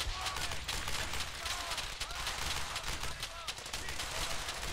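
Bursts of rapid gunfire and machine-gun rattle in Brothers in Arms: Hell's Highway, dense overlapping shots throughout a wartime firefight, loud and continuous with a voice speaking over the shooting.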